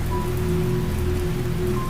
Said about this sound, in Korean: 마른 하늘에 비가 내리기 시작하였다